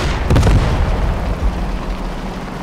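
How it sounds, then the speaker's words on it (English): An 88mm tank cannon in Call to Arms Gates of Hell fires once with a heavy, booming blast that rolls away into a long, low rumble. "That 88mm cannon in that tank."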